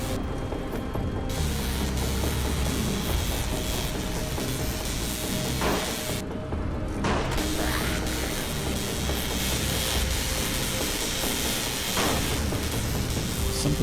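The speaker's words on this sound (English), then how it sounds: "Something's a little glitchy with the sound of that electronic trap." Glitchy electronic trap from an indie video game in development, a dense, continuous mechanical buzzing and ratcheting hiss with short bursts, steady and fairly loud with no voices.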